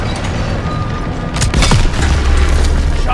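A tank cannon fires in the World War II shooter Call of Duty WW2: a heavy, close boom breaks through dense, loud battle rumble, then a low roar trails away under continuing noise.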